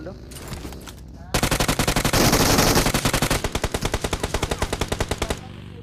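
Automatic gunfire in the mobile battle royale game BGMI, a long rapid burst of shots in a fast even rhythm, loud and close, with the final shots spacing out slightly before stopping.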